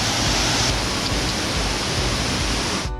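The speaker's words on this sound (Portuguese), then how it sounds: "Bonita, gente, essa cachoeira." Loud, constant rushing water roars up close from a waterfall in Itacaré, Bahia, a dense broadband spray, cutting off abruptly at the end.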